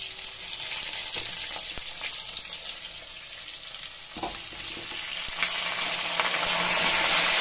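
Potato pieces fry in hot oil with bay leaf and cumin, a steady close sizzle with scraping stirs, the hiss swelling louder toward the end.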